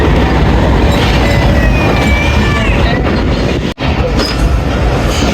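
The Rehman Baba Express rolls into platform 4 at Rawalpindi railway station, running late, with a loud, continuous rumble of wheels on rails, faint squeals and clatter, heard close and steady throughout.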